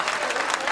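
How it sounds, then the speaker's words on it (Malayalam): Audience at a Malayalam comedy stage show in Europe breaking into loud, dense applause, many hands clapping continuously in a brief burst. "ഒരു നല്ല കൈയടി പൊട്ടട്ടെ"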